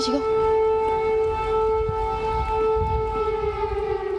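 A loud air raid siren in Kyiv, Ukraine, sounds a steady, unbroken wail throughout, with some low rumbling background noise underneath.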